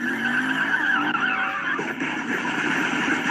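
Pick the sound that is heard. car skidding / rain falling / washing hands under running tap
car skidding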